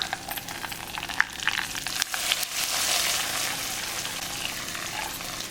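Hot tempering of fried shallots and curry leaves poured over Kerala mutton curry, giving a steady, close sizzling hiss that swells after the pour and keeps going, with no talking.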